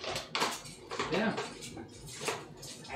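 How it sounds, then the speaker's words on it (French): Dishes and cutlery being unloaded in a home kitchen, with repeated irregular clinks and clatters of plates and utensils at close range, mixed with background voices. "Hey, la vaisselle va être vidée."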